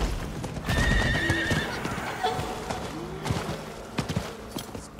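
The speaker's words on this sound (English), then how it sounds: "Get back on the horse." A horse in Diablo IV whinnies loudly, then its hooves clop in a steady walking rhythm, close and clear with game ambience.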